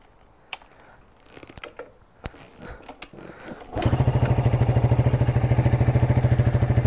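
A SYM Wolf Classic 125cc four-stroke motorcycle is started after a few faint clicks and handling noises, then settles at once into a loud, close, steady idle with a rapid even thump.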